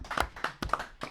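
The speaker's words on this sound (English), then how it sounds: "Give him another clap, lads." A handful of claps from a few people in a small room, four or five separate soft slaps with uneven timing, fairly quiet.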